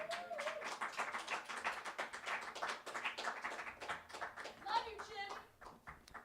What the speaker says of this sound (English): One more round of applause for Madeline Grace and Brandon.